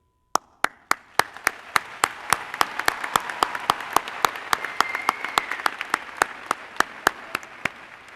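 Audience applause for students at a 2014 honors convocation: a few sharp, evenly spaced claps open it, then a full crowd joins in and sustains steady, loud clapping throughout.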